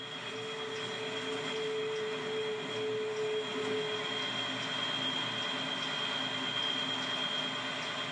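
A steady rumble of a train hauled by a CC 72000 electric locomotive, with a continuous electric whine and tonal hum, heard from the cab, unchanging throughout.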